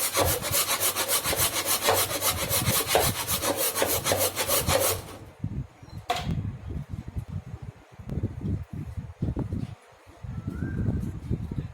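A block of ice is grated with a steady, rapid rasping scrape for about five seconds, then shorter irregular scraping strokes and knocks follow, close and loud.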